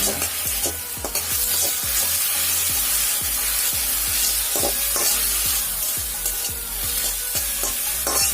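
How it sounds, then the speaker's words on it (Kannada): Tomato sauce frying and sizzling in a pan for baby corn Manchurian, a crispy street-food dish, with steady loud sizzle and repeated stirring scrapes throughout, no voices. "ಟೊಮ್ಯಾಟೊ ಸಾಸ್, ಹಾಕಿ ಒಂಚೂರು ಫ್ರೈ ಮಾಡ್ಕೊಳ್ಳಿ."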